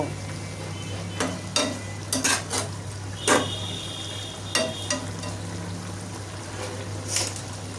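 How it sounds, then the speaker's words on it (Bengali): Spiced singi fish curry with cumin powder being stirred and fried in a pan, soft sizzling under intermittent scrapes and clinks of a utensil against the pan, close and fairly quiet. "এখন ভালোভাবে নেড়ে চেড়ে রান্না করব"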